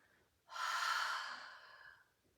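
A single deep exhale during a Pilates mat exercise, a breathy rush of air that starts abruptly, holds strong, then tapers off, close and fairly soft in a quiet room.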